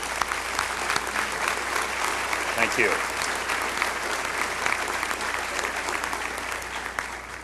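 Sustained audience applause fills the space at a graduation ceremony, a dense, even clapping from a large crowd that continues throughout, with a brief spoken thanks partway through.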